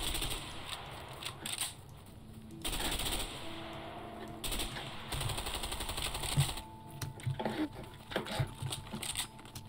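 Repeated shotgun blasts from a character firing at a house in the video game A Way Out, set in the 1970s, booming in uneven bursts over a steady layer of game background noise.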